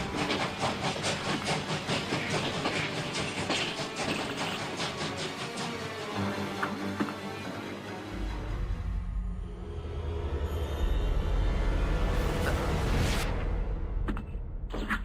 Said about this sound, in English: Try this locomotive up for size. Time for a little derail.